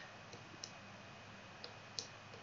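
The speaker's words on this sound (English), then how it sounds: "if I click on the two buttons of my controller" Buttons on a homemade Arduino MIDI controller clicked a few times, small sharp ticks spaced irregularly over a steady background hiss, close but faint, no talking.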